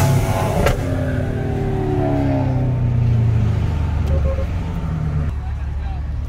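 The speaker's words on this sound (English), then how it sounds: "That car sounds amazing." A BMW M3 with an S65 V8 engine and Dinan exhaust rumbles and revs with a deep exhaust note, pitch rising and falling nearby, while a person talks over it.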